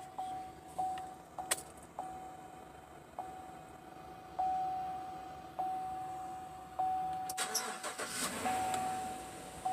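Car engine being started after new spark plugs and cables are fitted, close by: a warning chime repeats at intervals, then the starter cranks and the engine catches near the end, with a few clicks and handling noises.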